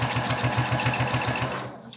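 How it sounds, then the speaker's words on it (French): A sewing machine stitches a removable fabric waistband while the fabric is held taut: a fast, steady, rhythmic mechanical chatter close by and loud, slowing and stopping near the end. "je vais tendre le tissu et je vais l'accompagner à la machine"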